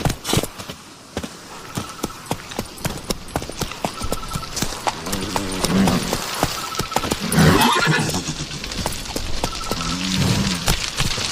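Roach, Geralt's horse in The Witcher 3, clip-clops steadily on hooves with a few whinnies, amid light pattering rain and a busy game ambience.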